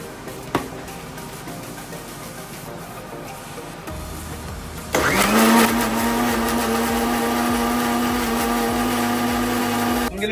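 A kitchen mixer blends cooled chicken tikka masala sauce, starting after a few seconds of quiet clatter with a loud, steady high whine and motor buzz that continues to the end.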